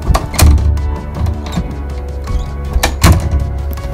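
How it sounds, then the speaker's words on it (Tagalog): A bedroom door in a house bangs open and shut in a horror story, with several loud thuds and knocks spaced irregularly over a low rumbling background. "waring biglang nagbukas-sara ang pintuan ng kanilang kwarto"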